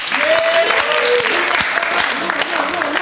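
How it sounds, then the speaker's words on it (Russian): Studio audience at a comedy slap-battle show applauding, a dense sustained wash of clapping for the full length, loud and close, with some voices mixed in. "Похлопаем."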